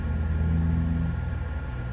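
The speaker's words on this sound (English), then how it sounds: "That was a car driving, or it was a truck driving away." A low, steady engine rumble of a truck pulling away on a street, easing slightly as it goes, with no voices.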